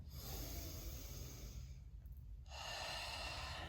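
Long, steady exhale through the nose during a lower-body yoga movement, a breathy rushing sound close to the mic that pauses briefly and then resumes, with no talking.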